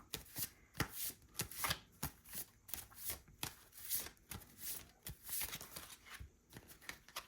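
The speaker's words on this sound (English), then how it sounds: "I need to learn to shuffle" A deck of oracle cards is shuffled by hand in quick, irregular bursts of soft riffling and slapping, close and fairly quiet, with no talking.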